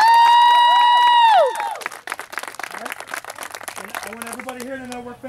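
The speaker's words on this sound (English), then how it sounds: "Clap it out, fellas." A sports team celebrating a division championship breaks into loud clapping and cheering, a mass of claps and shouting voices after a loud sustained tone at the start.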